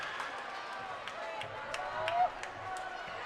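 A high school basketball crowd at Minot High cheers and claps in the gym, a broad steady roar with scattered shouts and a brief louder swell.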